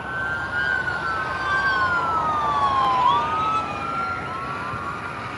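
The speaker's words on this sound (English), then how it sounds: "Sorry, I heard sirens." Emergency vehicle sirens wail continuously in the distance near Giga Texas, their pitch rising and falling in overlapping sweeps over a steady background hum.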